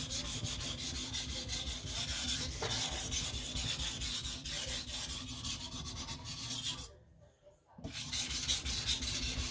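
A knife blade is sharpened in quick, repeated rasping strokes across a stone, rhythmic and close, with a brief pause before the strokes resume.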